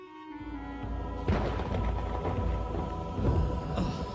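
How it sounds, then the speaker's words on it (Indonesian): Rain falls steadily as a sound effect in an animated story, swelling into a dense, continuous hiss with a deep rumble underneath that resembles thunder, loud and close with no talking. "Alhamdulillah hujan."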